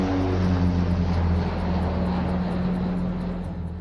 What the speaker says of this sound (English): As the plane breaks out of the clouds, the runway's in sight.